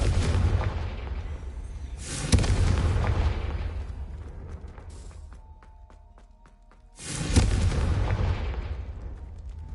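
Two booming blasts from the Confringo spell in Hogwarts Legacy, each a sharp loud crack with a long rumbling decay, separated by a quieter pause with faint chimes.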